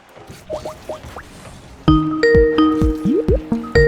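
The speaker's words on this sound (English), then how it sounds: "As you guys can hear the Skype bell calling, there we go." A Skype incoming call ringtone plays during a Rocket League tournament stream, soft bubbly pops at first, then louder bright tonal notes bouncing in a quick repeating pattern, close and alone without speech.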